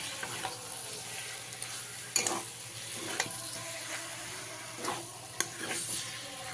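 Boiled plantains and potatoes are stirred into spices in a pan with a soft, continuous sizzle. A spoon scrapes and taps against the metal now and then, quiet and close, with no talking.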